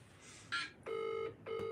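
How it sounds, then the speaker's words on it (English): Telephone ringing on a call, a short electronic chirp followed by two sustained tonal rings of about half a second each, clear and close with no talking. "Oh, come on, Karen, get on the phone."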